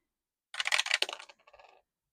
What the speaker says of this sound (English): So let's roll 6-sided dice.